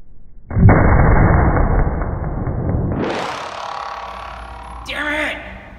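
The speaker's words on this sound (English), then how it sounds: "we're gonna try this shot again with the t-shirt in front of the blocks." A Winchester PDX1 Defender 9mm round fired into clay blocks behind a t-shirt: one loud, close gunshot blast with a sustained roar, then a decaying rumble and a brief ringing rattle near the end.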